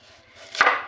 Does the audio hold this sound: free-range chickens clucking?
no